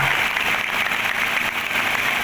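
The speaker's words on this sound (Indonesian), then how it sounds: "Tepuk tangan untuk Pak Kadis, Pak Dadan ya." A crowd of workers at a labour protest at the Cirebon regency manpower office applauds in a steady, dense clatter for the whole short stretch, with no voices above it.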